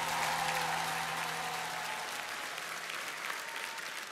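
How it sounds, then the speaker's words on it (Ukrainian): An audience at a televised singing game show applauds in a dense, continuous wash of clapping that slowly fades in intensity. "Ваші оплески!"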